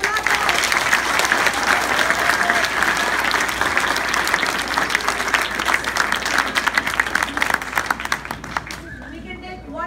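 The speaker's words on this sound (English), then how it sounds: "Thank you so much, and one more huge round of applause." An audience applauds a speaker with loud, continuous clapping from a sizable crowd, with some cheering and voices mixed in, fading out at the end.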